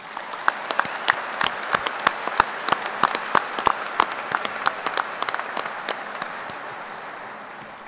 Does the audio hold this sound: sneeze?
no